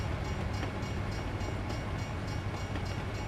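A video game train rumbles past with a steady, dense low roar and faint rhythmic clatter, continuous and fairly close, with no voices.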